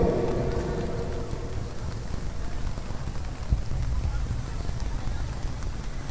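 Steady broadband rain falls throughout, a continuous hiss near and moderately loud, with a voice speaking over it in the first seconds and a brief thump midway.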